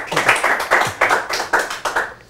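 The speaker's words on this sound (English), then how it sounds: "that's probably the biggest round of applause anyone's gotten on this show" Applause from a studio audience on a horse-racing talk show comes through as a run of loud, evenly spaced hand claps, close and with no talk over them.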